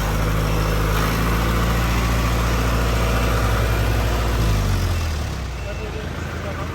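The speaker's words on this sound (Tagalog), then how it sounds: "Ang truck ni Mayor Baba." The mayor's truck idles nearby on a highway roadwork site, a loud, steady low diesel rumble that drops and softens toward the end, with faint voices around it.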